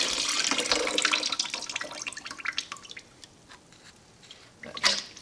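Coolant trickles and drips out of a Jeep engine block, an irregular run of small wet splashes and drops close by, easing off toward the end before one brief louder splash.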